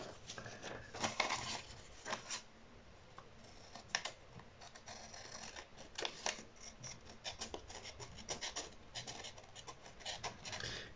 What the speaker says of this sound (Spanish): Ya la tenemos ahí marcada y empezamos a recortar.